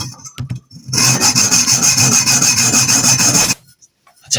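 A fire extinguisher cylinder is cut by hand for a homemade airgun. A rapid run of loud, rhythmic rasping strokes lasts about two and a half seconds before stopping abruptly, with brief scrapes before and after.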